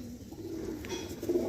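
Soft low coos from a Madras pigeon, a short murmuring phrase that swells near the end, heard close up against a quiet room hum with no voices.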